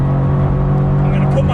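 Subaru BRZ driven flat out on a race track, a loud close engine drone holding steady under a voice talking over it.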